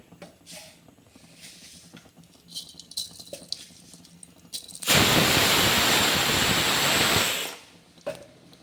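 Mustard seeds crackle and splutter loudly in hot oil in a kadai, a dense burst of popping that runs for a couple of seconds after quieter clatter and kitchen handling noises.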